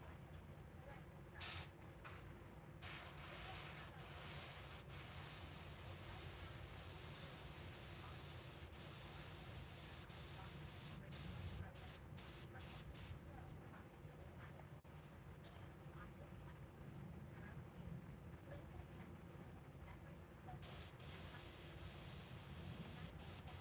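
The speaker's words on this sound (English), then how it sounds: "right now, just messing with the one airbrush" An airbrush sprays a single color of paint while a rose is painted, producing a continuous close hiss that runs nearly unbroken and sits under faint background noise.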